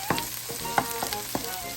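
Onions and garlic fry in oil in a pan for pork sinigang, a soft, steady sizzle punctuated by a few brief stirring scrapes and clicks.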